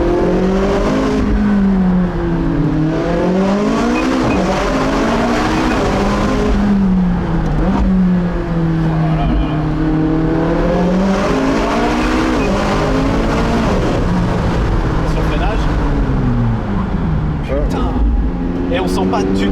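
A McLaren 675 LT Spider engine revs up and down in long, loud sweeps while the car is driven along a road past small cliffs, with people talking over the steady engine roar.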